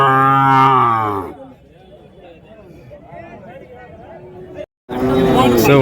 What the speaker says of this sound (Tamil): ஸோ ஒரு செவல நிறத்தில் ஒரு நாட்டு மாடு எடுத்துகிட்டு வந்திருக்காங்க பாருங்கள்.